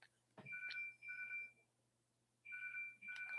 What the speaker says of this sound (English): someone's ringing my phone